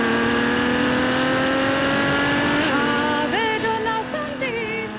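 A red Ferrari FF with 660 horsepower drives through hilly roads, its engine droning loudly and steadily, then shifting and revving with quick pitch jumps as it accelerates up through the gears.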